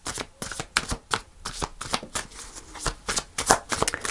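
Tarot cards being shuffled in quick, riffling bursts, close and fairly quiet, with short pauses between each flurry.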